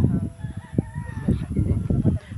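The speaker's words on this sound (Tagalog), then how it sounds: "may mga ibon pa po" A rooster crows and chickens cluck nearby, short bird calls over a low outdoor background on Mount Makiling, Santo Tomas.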